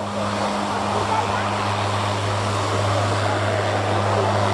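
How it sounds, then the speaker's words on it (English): A Hercules transport aircraft reverse-taxis at an air show, its propeller drone a steady, broad roar with a low hum, heard continuously at moderate distance while a voice talks over it. "One of the longer reverse taxis I've ever seen a Hercules do at an air show."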